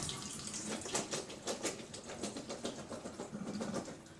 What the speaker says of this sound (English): just rinsing those off, cooling those noodles off to the touch